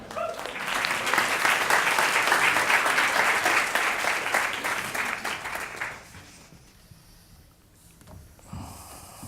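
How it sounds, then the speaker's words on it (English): A crowd at the FameLab Ireland science-communication final applauds a contestant, the dense clapping holding for about six seconds before dying away into quiet room sound. "Please give him a round of applause."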